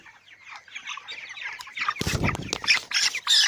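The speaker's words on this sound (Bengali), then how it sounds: "এখন আমরা আরেকটি মুরগি ধরবো।" Broiler chickens clucking and squawking as one is caught, starting faint and growing louder and closer, with a burst of wing flapping midway and agitated calls continuing after.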